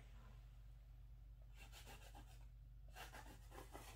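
Quiet, close scrubbing strokes of a paintbrush rubbing back and forth on canvas during wet-on-wet oil painting, coming in two short rhythmic bursts.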